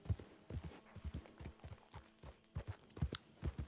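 A horse's hooves clip-clop at a steady trotting rhythm in Red Dead Redemption 2, the even, faint beats repeating with no one talking.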